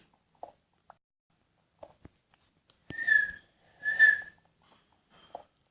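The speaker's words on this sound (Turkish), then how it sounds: "sen ıslık çalma lütfen" Two short whistled notes sound close by, with faint clicks and rustles in the quiet around them.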